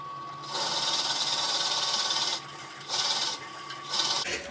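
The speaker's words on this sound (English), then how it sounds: "I'm just going to drill this out at about 300 RPM" Drill bit boring slowly into a bur oak sink blank on a wood lathe at about 300 RPM, with steady grinding bursts of cutting broken by short pauses.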